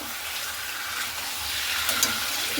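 Chicken sizzles in hot oil with masala while being stirred, a steady close frying hiss with light scraping throughout.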